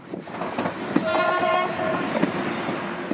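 A train on a Bosnian railway rumbles steadily with a continuous rolling roar and a brief tonal horn-like whine in the middle, loud and close.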